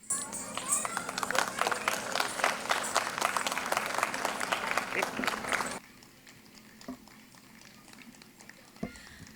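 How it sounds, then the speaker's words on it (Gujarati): Audience at a classical dance arangetram bursting into loud, sustained clapping for several seconds, then cutting off to a quiet hall with only a few scattered claps. "આપ સૌની ખૂબ ખૂબ તાળીઓ હોવી જોઈએ"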